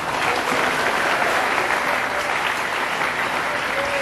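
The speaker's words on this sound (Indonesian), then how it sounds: "Tepuk tangan. Dr. Mukni." Steady, dense audience applause at a book discussion, loud and even from start to finish with no talk over it.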